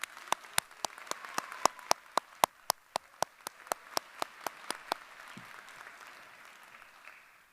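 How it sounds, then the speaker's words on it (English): A graduation audience applauds special educators; a sparse, steady run of loud individual claps sounds over a faint wash of distant crowd clapping that tapers off. "Let's give them one more round of applause."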